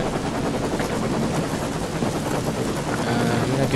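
In the video game Bulletstorm, a helicopter goes down amid gunfire, producing a dense, continuous roar of rotor noise, rumbling and rapid shots that fills the whole stretch at a loud, even level.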